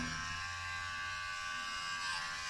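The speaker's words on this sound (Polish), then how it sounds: "ta soniczna szczoteczka" A sonic facial cleansing brush buzzes steadily and loudly near the listener, a continuous even electric hum with no pauses and no voices.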